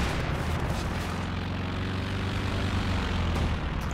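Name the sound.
aircraft flying over in Company of Heroes 2 video game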